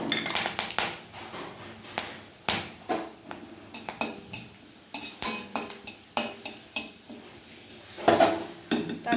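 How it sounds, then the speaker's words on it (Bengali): Whole cardamom and cinnamon go into hot ghee and oil, giving a run of sharp clinks, scrapes and stirring knocks of a utensil against the pan over a faint sizzle, irregular and close. "এবারে আমি আস্ত এলাচ দারচিনি আর তেল প্রথমে দিয়ে দিচ্ছি"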